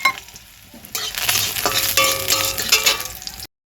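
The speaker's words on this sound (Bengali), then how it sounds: "আমি শাকের তরকারির জন্য বড়িগুলো ভেজে নেব।" Lentil dumplings (bori) frying in hot oil in a pan, a faint opening before a loud sizzling hiss starts and spits with crackles, then cuts off abruptly.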